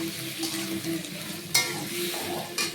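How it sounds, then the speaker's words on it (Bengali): Sliced onions frying in a pan for pepper chicken, a steady close sizzle with a couple of sharp utensil scrapes against the pan, no voices. "পেঁয়াজটা দিয়ে দিয়েছি, এবার এগুলো লাল লাল করে পুরো ভেজে নেব"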